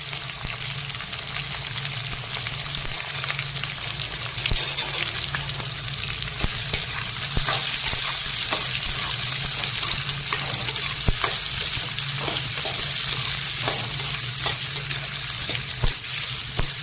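Sliced onions frying in a pan with fennel seeds, mustard seeds and a little cumin, a loud, steady close sizzle with faint crackles and occasional pops throughout, without talk.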